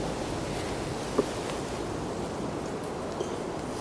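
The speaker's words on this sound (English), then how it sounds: "you can hear the wind in the background possibly" Wind blows through a forest at a wild camp in the early morning after on-and-off rain, a continuous, fairly loud rushing roar with faint knocks and rustles and no speech.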